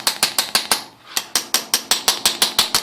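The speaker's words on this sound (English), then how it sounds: "Use a little socket wrench to get it out." A socket wrench ratchets in quick, evenly spaced clicks close by while loosening the carburetor screws on a Yamaha XT225 motorcycle, with one short pause midway; no speech.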